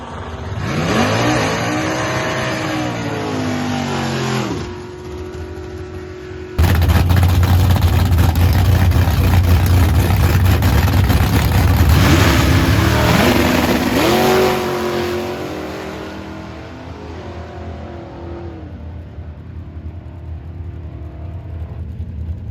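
A race car competes in a round of racing, its engine loud and close, with repeated revving sweeps rising and falling in pitch, a sharp jump to full-throttle roar, then easing off to a lower drone.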